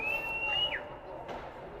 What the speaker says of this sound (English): we're going to get a whistle at 9:32 to go here in the second period